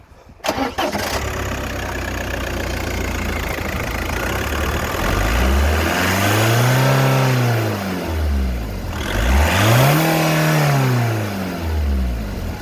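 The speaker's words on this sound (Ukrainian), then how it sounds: "можете завести, трошки прогазувати, десь хоча б 4 тисячі дати, бо людина хотіла послухати турбіну" Turbocharged engine of a VW Passat started and revved to about 4000 rpm during a used-car inspection, loud and close, climbing and falling in two strong rev sweeps over a steady idle, with no talking.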